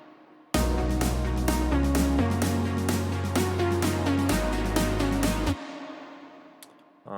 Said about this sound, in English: I put a lot of reverb and delay and close it by filter